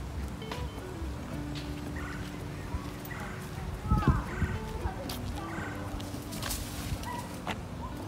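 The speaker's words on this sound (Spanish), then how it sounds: "Mira, ahí están los pavos reales." Peacocks call outdoors in a series of brief, rough, gobbling cries scattered across several seconds, moderately near, over a steady background murmur.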